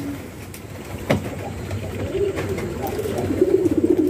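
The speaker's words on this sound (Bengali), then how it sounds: "এছাড়া বাইরে অনেক কবুতর রয়েছে।" Desi racing pigeons coo in a loft, soft repeated throaty coos rising toward the end, with faint clicks and shuffling around them.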